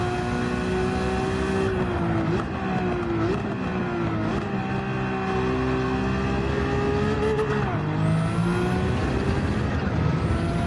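Race car engine in a sim racing video game, a steady loud high-revving drone with pitch dips as it brakes into corners and climbs again on throttle, running continuously without talk.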